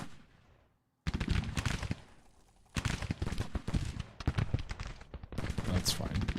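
Musket volleys crackle in the Civil War strategy game Grand Tactician, with dense, rapid rattling shots in bursts after a brief quiet start, loud and continuous with short pauses between volleys.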